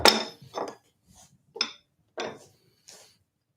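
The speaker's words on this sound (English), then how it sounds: "Being careful where I put my chisels when I put them down on the bench" Steel carving chisels are set down on a wooden workbench one after another, five or six distinct close knocks and clinks spaced about half a second apart, with no talk.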